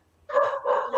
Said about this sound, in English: besides the barking dogs in the background